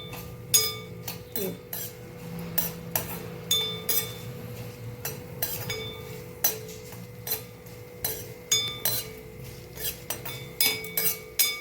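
A metal spoon stirs a chili mixture in a pan, striking the sides in sharp, irregular clinks and scrapes with short pauses between strokes, close and clear over a quiet low hum.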